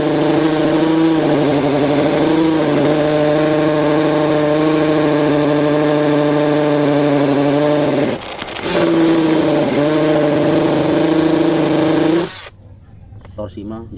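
A KAELAT cordless drill with a dull bit bores into hard wood, its motor whining loud and steady, briefly dropping out and restarting, then cutting off abruptly.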